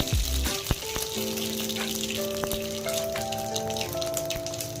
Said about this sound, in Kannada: ಸಾಸಿವೆ ಹಾಕ್ತಾ ಇದ್ದೀನಿ. ಜೀರಿಗೆ ಹಾಕ್ತಾ ಇದ್ದೀನಿ.